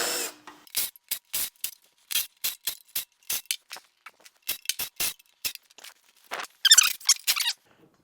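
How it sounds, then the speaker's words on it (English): An impact driver removing the oil pan bolts on a 5.0L H.O. engine short block, firing short rattling bursts one after another with quiet gaps, close and fairly loud. "So I'm going to save some time and use an impact driver."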